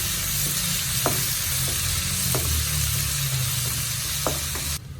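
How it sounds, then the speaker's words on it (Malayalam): Two onions sauté in a pan with a dense, continuous close sizzle, punctuated by a few light stirring scrapes, no voices. "അത് രണ്ട് സവാള മതിയാവും നന്നായിട്ടൊന്ന് വഴറ്റിയെടുക്കാം"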